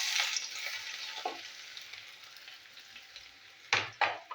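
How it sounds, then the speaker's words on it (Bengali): Chopped onion and green chillies fry in a pan with a soft, continuous sizzle, broken near the end by a few sharp clacks of stirring against the metal. "একটু ভাজা হোক।"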